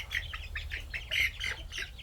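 Baby chicks cheep while being handled, giving a quick series of high, thin peeps in close succession, fairly faint over a low background hum.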